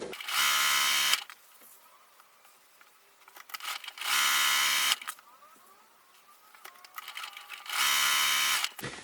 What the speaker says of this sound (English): I will sew that second line about 1/2 inch lower.